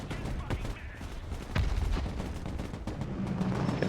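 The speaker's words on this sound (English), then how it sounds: "it feels like they're just firing HE at these tanks" Tank cannon fire with high-explosive shells in the military strategy game Broken Arrow, a rapid series of sharp, booming gunfire bursts of mixed distance, with a heavier blast midway and a steady roar of battle behind.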